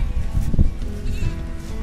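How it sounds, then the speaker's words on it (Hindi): Sheep and goats bleat from a herd of about 250 animals kept by desert herders in Rajasthan, a close, steady chorus of overlapping calls with no talk. "250 भेड़ बकरियां अपने पास है ना,"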